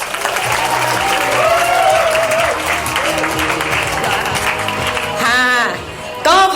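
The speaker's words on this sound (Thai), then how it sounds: "เสียงปรบมือดังๆ ให้พี่เคจะอีกรอบหนึ่งนะคะ" Loud applause from a workshop audience after a presentation ends, a dense steady wash of clapping with voices talking over it, tapering briefly near the end before a short burst resumes.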